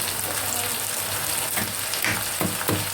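Ginger garlic paste sizzling hard in a pan with cow belly, a loud continuous close fry with a few stirring scrapes toward the end.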